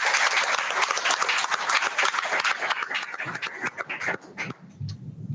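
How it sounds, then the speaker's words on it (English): An audience at a school district board meeting claps in a sustained round of applause for Allison Martin, dense and loud at first, then thinning out into scattered claps near the end. "So let's give a round of applause to Allison."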